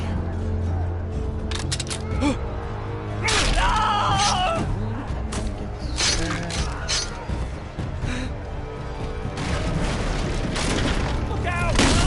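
Gunfire and booming blasts in the Game of Thrones video game on PS4, loud and dense throughout with sharp cracks and heavy thuds, while voices shout over the battle.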